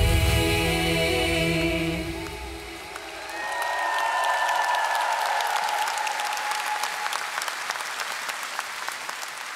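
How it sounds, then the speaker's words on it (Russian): Concert audience applauding at a unity marathon event in Molodechno, a dense steady clapping that swells after a fading musical passage and continues loud and sustained, with faint crowd cheering mixed in. "Аплодисменты."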